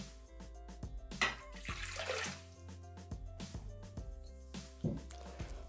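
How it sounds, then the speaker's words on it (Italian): Water poured into a Thermomix (Bimby) mixing bowl, splashing and trickling up close, broken by a few light clanks and knocks. "Iniziamo la ricetta mettendo all'interno del boccale l'acqua."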